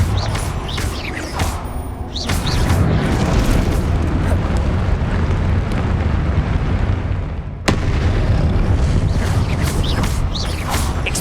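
Confringo blasting-curse explosions in the Hogwarts Legacy video game: a dense, loud run of booming blasts and crackling bursts, with a sharp cut near the end before the rumbling battle resumes.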